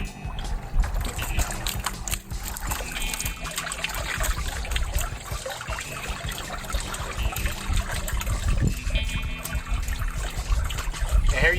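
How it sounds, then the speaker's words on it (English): Water spills and trickles steadily over the stone of a rock water fountain, a continuous close splashing dribble with no pauses. "the desired amount of water coming off of your stone"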